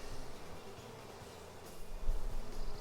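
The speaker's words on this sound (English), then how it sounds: "Still lots of bees in this hive, guys." Honeybees buzzing in and around a hive, a steady low drone that thickens and grows louder toward the end, with no voices.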